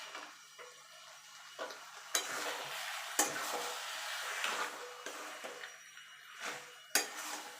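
Spinach stems and fish head being stirred with a little ghee in a pan, soft rhythmic scraping and occasional spoon clinks over a quiet sizzle, close and fairly faint.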